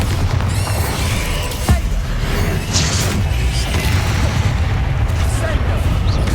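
Spell combat in Hogwarts Legacy, including a Bombarda blast, brings rumbling booms, crashes and whooshing bursts, loud and dense throughout. A voice calls out over the effects.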